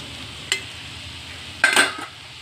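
Peanuts being stirred into an ivy gourd and coconut fry in a pan, giving a short clink near the start and a louder scraping, sizzling burst near the end over a faint steady background.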